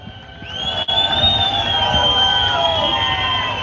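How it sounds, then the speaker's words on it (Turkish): A union rally crowd in Thrace cheers loudly, with sustained shouting and whistling and a steady roar of voices, a high whistle tone carrying over the noise throughout. "Ve ev sahibi Trakya şubesini alkışlayalım."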